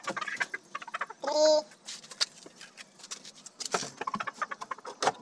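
Aseel chickens clucking and squawking in a coop, with one loud crow-like call midway, mixed with scratching, rustling and someone talking nearby.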